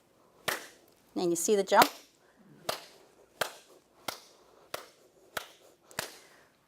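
During a dog training demonstration, sharp hand claps ring out one at a time at a slow, even pace, roughly one per second. Someone speaks briefly near the start, between the claps.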